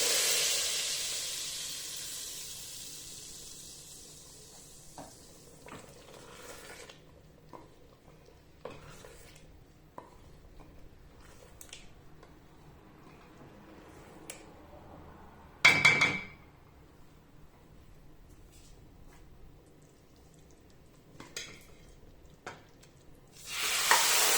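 Hot oil sizzles softly in a pan for tempering, fading over time, with occasional clinks and a louder burst of sizzling as ingredients are added.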